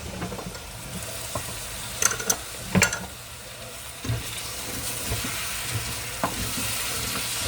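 Cinnamon apples cooking in a pan give a steady, low sizzle with occasional clinks and stirring scrapes from a utensil, close up and moderately quiet.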